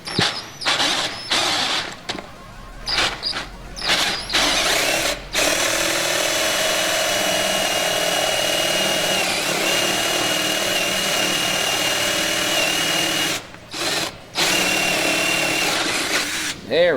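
A failing power drill grinds steadily into wood, close and loud, in a long continuous run after a few short stuttering bursts at the start, with brief pauses near the end.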